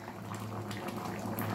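Winter vegetable dal bubbles in a pot over a raised flame, a soft, continuous burbling boil heard close and fairly quiet with no talk.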